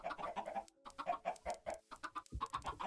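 Chickens in the Minecraft video game cluck in quick, repeated bursts, fairly close and faint, with no talking over them.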